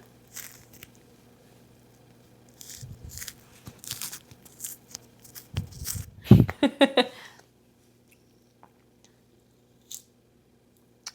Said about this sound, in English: And then I'm the type of person that peels it all first before I start eating.